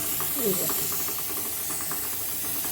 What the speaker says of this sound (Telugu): శనగపప్పు, మినపప్పు, ఆవాలు, జీలకర్ర, ఎండుమిర్చి, పచ్చిమిర్చి, కరివేపాకు అన్నీ వేసి వేయించేస్తాను